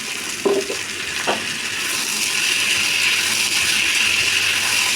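Chicken frying with tomato sauce in a pan, a steady close sizzle with a couple of brief utensil scrapes early on, no voices.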